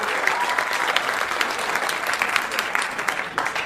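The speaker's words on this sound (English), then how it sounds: "You can clap." Comedy club audience at Gotham Comedy breaks into steady, dense applause, many hands clapping together at moderate distance for a few seconds without a break.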